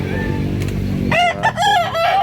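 A young rooster, about seven months old, crows loudly and close at a busy poultry market in Danao, Cebu, with two drawn-out crows following a murmur of crowd noise.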